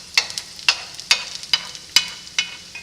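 Hash browns made from rehydrated potatoes fry in a pan over medium heat, with sharp scraping and sizzling bursts recurring about every half second as the spatula works them, no voices.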